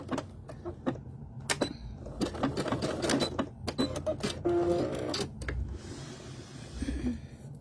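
A sewing machine back stitching, with the needle working while the fabric stays still, on a beginner book-marker and pen-holder project: bursts of rapid mechanical clatter and whirring, starting and stopping, close by.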